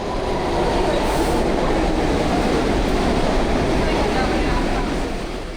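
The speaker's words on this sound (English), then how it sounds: "We hopped back on the subway for another quick ride" A New York City subway train in motion, riding along with a loud, steady rumble of wheels and rail noise filling the whole stretch without a break.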